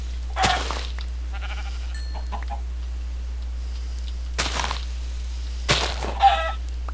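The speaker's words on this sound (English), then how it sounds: "There's a lot of chickens around here." Chickens in the Minecraft video game, a few short clucks and bleating-like calls in separate bursts over a low steady hum, fairly faint, with no talking.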